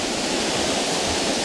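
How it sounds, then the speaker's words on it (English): Steady broadband rush of a river flowing beside a trail through trees, continuous and fairly loud, with no breaks or voices over it. "You can see the river right there."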